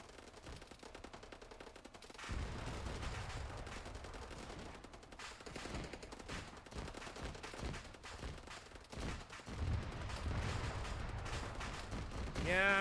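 Sustained bursts of automatic gunfire and heavy impacts from an ARMA 3 battle against invading Reapers, loud and dense throughout with brief lulls and a rising tone near the end.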